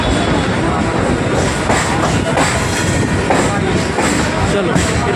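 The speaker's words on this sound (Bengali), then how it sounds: "ট্রেন ছেড়ে দিয়েছে দমদম স্টেশন থেকে।" Kolkata circular railway train pulling away from Dum Dum station, a steady loud rumble of wheels on rails with clattering and faint squeals throughout, heard from inside the carriage with some voices mixed in.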